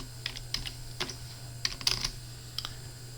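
Typing on a computer keyboard, a quick run of light, irregular key clicks close by, some keystrokes landing in fast little clusters, with no talking.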